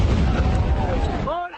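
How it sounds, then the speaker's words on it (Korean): A dull, heavy explosion from an Israeli airstrike hits a school used as a shelter for displaced people in Khan Younis, Gaza: a loud, low, rumbling blast that fills the clip before fading out. "둔탁한 폭발음이 학교를 집어삼킵니다."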